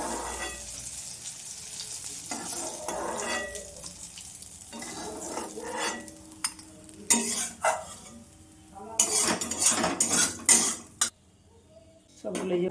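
Fried chana dal fritters being lifted out of a pan of oil, soft sizzling under scraping and clinking of a metal utensil against the pan, with louder clatters toward the end.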